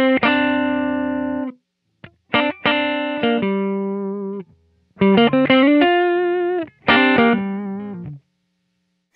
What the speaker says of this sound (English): just a little bit of saturation effect on the top end.